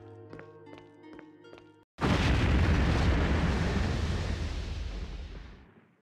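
Player character exploding in the Resident Evil Remake: a rhythmic tonal pulse is cut off abruptly by a huge, loud blast that roars and rumbles for several seconds before fading out.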